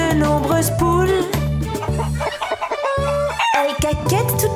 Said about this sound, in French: Elles caquettent toute la journée dans la drôle de ferme de Papy Henri.